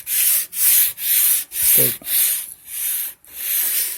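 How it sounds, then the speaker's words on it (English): Wood trim is sanded by hand with a sandpaper block fixed by hook-and-loop Velcro, giving loud rhythmic back-and-forth strokes about every half second. A voice speaks briefly over one stroke. "I put on the block, which sticks to this Velcro on the sandpaper."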